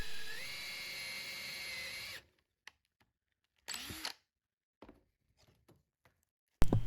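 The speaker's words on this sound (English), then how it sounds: "now I'm going to drill out all of the holes into the actual frame itself where the dowel is" A power drill bores dowel holes into a wooden table frame, whining steadily and loud for about two seconds, then stopping; a short second burst and scattered faint clicks and knocks follow, ending in a sudden loud noise.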